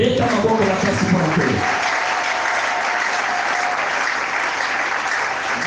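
A church congregation breaks into sustained, loud applause with crowd noise, with a voice audible at the start before the clapping continues steadily on its own.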